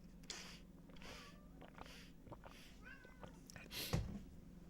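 A house cat meows several times indoors during a live stream, short rising calls at a moderate distance over faint room hum, with a brief loud rustle near the end.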